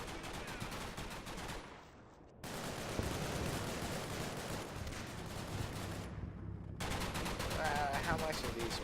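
Sustained mortar and gunfire in the World War II video game Combat Mission: Battle for Normandy, a dense rattling barrage that briefly drops out twice before resuming, loud and continuous.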